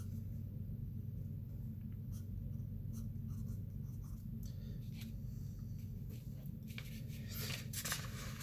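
A Legendary Lead Company 4H pencil writes on paper with a steady, soft scratching that runs unbroken throughout, close and quiet, with faint sharper strokes near the end.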